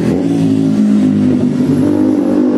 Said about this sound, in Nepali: यति ठुलो आवाज भएको मोटरसाइकल चलाउँछ नि यहाँ